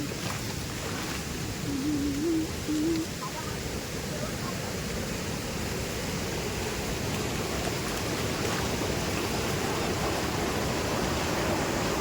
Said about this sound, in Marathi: अगदी तुडुंब भरून वाहतोय.